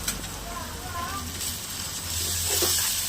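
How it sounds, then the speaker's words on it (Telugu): Ginger garlic paste sizzles in hot oil with browned onions for a chicken curry, a steady soft frying hiss with faint stirring, close and moderately loud. "అల్లం వెల్లుల్లి పేస్ట్ వేసి అది కూడా బాగా వేగేంత వరకు కలుపుకోవాలి."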